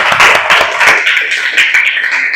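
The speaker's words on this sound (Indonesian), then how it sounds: "Sekali lagi tepuk tangan untuk kita semuanya." Children in a classroom clap their hands together in a short burst of quick, close, fairly loud claps.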